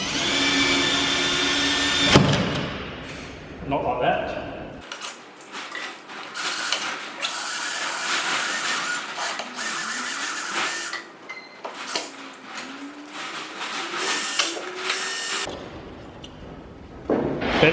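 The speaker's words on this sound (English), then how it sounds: "So just going to drill up the pop rivets." A power drill bores out pop rivets on the stripped bare shell of an RX7 Group C race car, running in whining, uneven bursts that rise and fall close by, with a brief spoken remark near the start.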